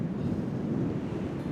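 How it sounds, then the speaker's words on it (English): Steady low rumbling wind buffets the microphone at Spanish Wells, a continuous blustery roar with no other sounds. "it's so windy today"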